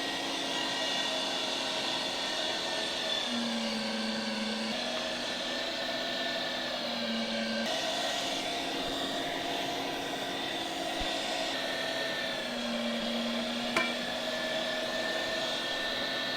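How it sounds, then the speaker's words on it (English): Ground beef being run through the small die of a meat grinder, a steady loud motor whine and hum that holds unbroken from start to finish, with small pitch shifts along the way and no talking. "Then we're gonna run the ground beef one more time through the small die."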